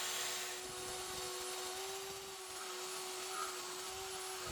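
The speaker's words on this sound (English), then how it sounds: "let me just start up the bandsaw for you" A bandsaw runs steadily in a workshop where wood clamps are being made from handrail, a constant motor hum with a high whine held throughout, loud and close, without breaks.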